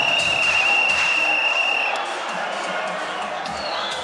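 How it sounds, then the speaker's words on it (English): A boxing arena crowd at an IBF eliminator bout cheers and roars loudly, the noise holding steady and then easing slightly, with voices shouting within it. "The crowd are loving every minute of it"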